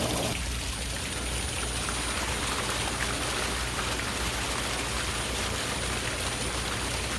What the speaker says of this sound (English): All that nasty water coming out, all the dirt.